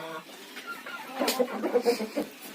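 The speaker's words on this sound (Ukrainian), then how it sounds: "що цей малий петух робить" A young rooster clucks in a series of short, close, throaty calls in a farmyard with hens, while someone speaks over it.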